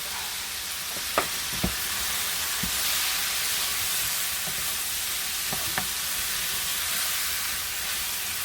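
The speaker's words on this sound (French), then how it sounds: "Et là, nous mélangeons bien." Vegetables for tagliatelle stirred in a frying pan, a steady close sizzle and hiss running throughout with a few soft clinks of the utensil against the pan.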